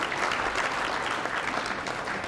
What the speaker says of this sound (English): could you please give them a round of applause and thank them for their support